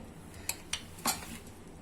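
A large spoon presses red chilli powder down into a jar, giving three short, faint metallic clinks and scrapes spaced about a quarter second apart, the last slightly longer, in a quiet room.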